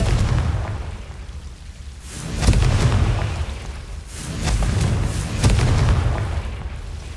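A fiery blasting spell from Hogwarts Legacy goes off in repeated loud booming explosions, each burst rolling into a rumbling decay before the next blast hits.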